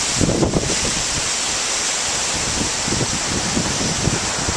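Wind gusting over open bay water on Anna Maria Island near Bradenton during Tropical Storm Debby, a steady loud broadband roar with low buffeting thumps from wind hitting the microphone.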